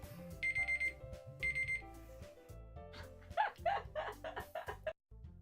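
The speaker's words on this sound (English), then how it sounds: "My alarm decided to go off" An alarm clock goes off during a Doki Doki Literature Club playthrough, sounding as bursts of rapid high beeping for the first couple of seconds over steady game music, followed by a busier musical passage.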